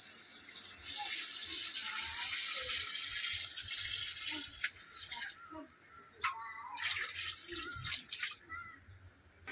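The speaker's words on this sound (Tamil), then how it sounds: "இப்போ தண்ணி ஊற்றிக்கலாம்." Water pours and splashes into a biryani cooking pot, starting steady then breaking into irregular splashes and drips, fairly close.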